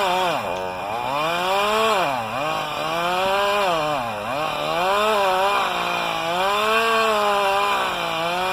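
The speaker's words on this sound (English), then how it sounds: "The saw I have is a Husqvarna 45. It's an 18-inch bar" Husqvarna 45 chainsaw with an 18-inch bar cutting into a dead eucalyptus over 2 feet across, with very hard wood inside; a loud, close, continuous engine drone that rises and dips in pitch as the chain bogs in the cut.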